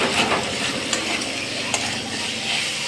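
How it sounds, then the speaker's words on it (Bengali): A spice paste for a vegetarian Bengali shukto dish is stirred and fried in a pan, with a steady close sizzle, a spoon scraping the bottom and a couple of sharp clinks against the metal. "তার মানে মশলাটা কষানো হয়ে গেছে"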